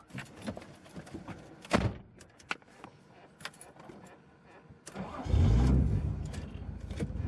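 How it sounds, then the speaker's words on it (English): Faint clicks and rattles, then a Nissan Skyline's RB20 engine with a twin-plate clutch cranks and starts up nearby, settling into a steady idle. "You can hear that clutch straight away."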